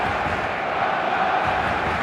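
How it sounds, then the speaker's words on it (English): A full stadium crowd in an eFootball match gives a constant, dense roar of many voices, steady and fairly loud with no single voice standing out. "The stadium is full of noise and energy."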